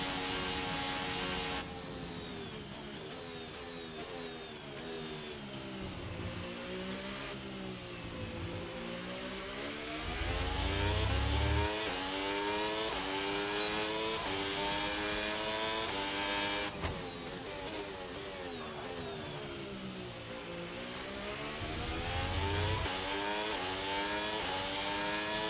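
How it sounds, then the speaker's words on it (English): An F1 car engine in the F1 26 racing game, heard in VR, drones loudly and steadily with rising and falling harmonic sweeps as the battery drains and the power fades out. "You can hear the car dying out when the battery drained."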